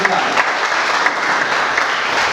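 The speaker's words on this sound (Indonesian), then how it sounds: "Tepuk tangan dulu dong." Loud, dense applause from an audience at an entrepreneurship training workshop for young beginners, steady throughout with a few sharper claps standing out.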